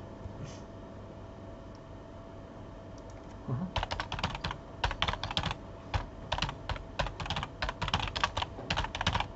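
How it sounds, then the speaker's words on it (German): Quiet typing on a computer keyboard, a run of soft, close clicking keystrokes in uneven bursts that begins after a few seconds of low background hum. "ich habe jetzt versucht ganz leise zu tippen"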